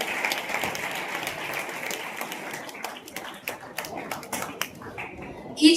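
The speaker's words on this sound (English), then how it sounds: "Let's hear a thunderous round of applause for all our participants who presented with finesse and great confidence." Applause for school news presentation contest participants, a crowd clapping steadily and then thinning into scattered individual claps, with a voice heard alongside.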